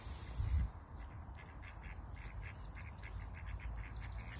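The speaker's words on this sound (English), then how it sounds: "these ducks that are quacking at the den of Maidencraig Pond" Ducks quack at Maidencraig Pond in a quick series of faint, distant calls, repeated against a low rumble of wind and water.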